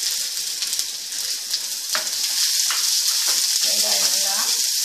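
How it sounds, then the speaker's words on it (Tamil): Onion, ginger and green chili fry steadily in a pan for masala paniyaram, giving a dense, continuous close sizzle with scattered crackles and no voices. "வெங்காயம் நல்லா ஃப்ரை ஆகட்டும்."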